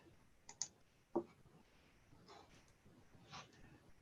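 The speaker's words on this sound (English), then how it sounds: "Let me just do some clicking." A few sharp computer mouse clicks, sparse and close, with faint background noise and soft rustling between them.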